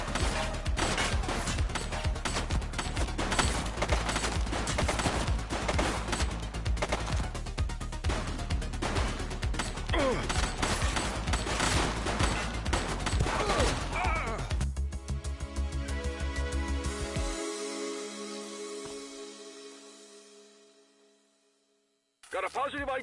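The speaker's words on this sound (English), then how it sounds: "She's shooting!" Sustained gunfire in a shootout in the video game The Precinct, rapid overlapping shots and crashes mixed with voices for most of the stretch, then fading into quieter tonal sound before a sudden return.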